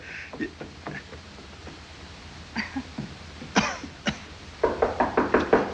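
Knocks on a door, a scattered series of sharp raps that builds to a quick run of firm, close knocks near the end, with no talking.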